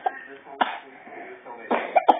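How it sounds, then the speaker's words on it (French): A person coughs several times in short bursts, close by, with some quiet talk in between. "Ouf, je tousse."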